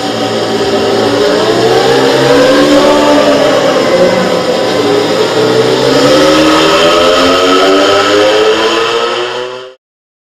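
A loud audience at a leadership talk imitating a motorbike engine, a sustained revving drone rising and falling in pitch for several seconds before cutting off.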